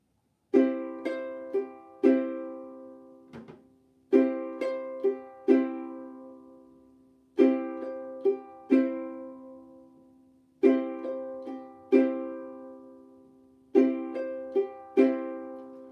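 A ukulele strums a repeating swing rhythm pattern of down and up strokes, bright chords ringing in short groups with brief pauses between.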